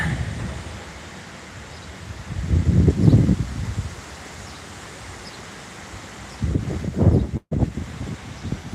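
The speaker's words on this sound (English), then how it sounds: "We're just out here watching the wind." Outdoor wind blows across a yard and garden, a steady rushing hiss that rises in two stronger gusts buffeting the microphone.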